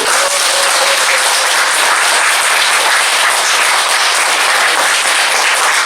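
An audience at a special public lecture breaks into loud, continuous applause to welcome the lecturer, with dense clapping that holds steady throughout.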